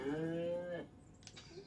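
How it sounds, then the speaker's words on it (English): A cow's drawn-out harmonic moo from the Destroy All Humans! video game, loud and close for most of a second, followed by quieter game ambience with a faint high chirp. "What's profound about a cow mooing?"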